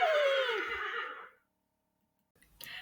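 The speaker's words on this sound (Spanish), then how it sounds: "Niños, ¿cómo hace el caballo?" A horse lets out one loud, close whinny that quavers and falls in pitch over about a second, then stops into silence before a brief rustling noise.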